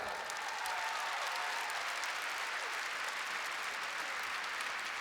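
Christmas concert audience applauding for the singer, a sustained, even wash of clapping from a large crowd lasting several seconds.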